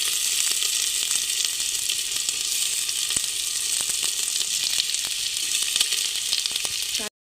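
Onion and potatoes fry in a pan with a loud, steady, close sizzle and a few soft clicks, running unbroken until it cuts off abruptly.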